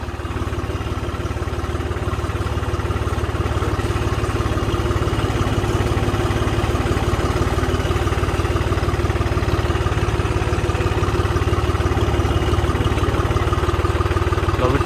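A dirty tractor idles steadily nearby, a constant low, rough engine drone with no pauses and no other sounds.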